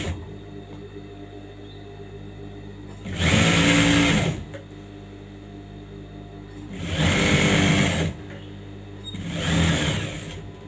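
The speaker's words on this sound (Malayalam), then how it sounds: "രണ്ടാമത്തെ പീസും അതേ രീതിയിൽ തന്നെ ഇട്ടിട്ട് നമ്മൾ സ്റ്റിച്ച് ചെയ്ത് കൊടുക്കണം." An electric sewing machine stitches princess-cut blouse pieces in three separate bursts of fast, buzzing needle chatter, each a few seconds long, with quieter pauses between runs.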